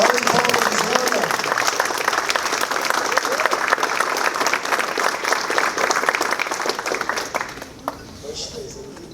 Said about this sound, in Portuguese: Salve de palmas, Giselda.